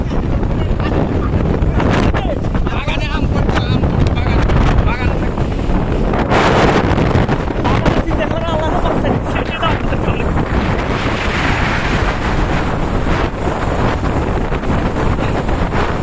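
Violent storm wind buffeting a boat on the Padma river near Hakimpur char, a loud, unbroken roar of gusts battering the microphone, with rushing water mixed in throughout.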